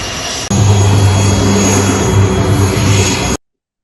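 Wings Air airliner taxiing to its parking stand at Husein Sastranegara Airport in Bandung, a loud, steady engine roar with a low drone that starts abruptly and holds close and constant without voices.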